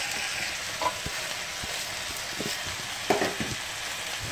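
Onions fry in a pan alongside cooking beans, a constant bright sizzle with occasional soft pops and stirring clicks, close and alone without talk.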